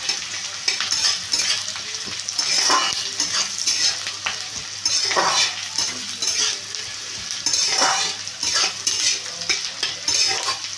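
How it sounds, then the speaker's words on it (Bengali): Chopped onions frying in hot mustard oil with a slit dried red chilli, a steady close sizzle broken by repeated scraping stirs of a utensil against the pan, no voices. "এবারে তেল গরম হয়ে গেছে, পেঁয়াজগুলোকে আমি দিয়ে নিলাম, দিয়ে ভেজে নিচ্ছি।"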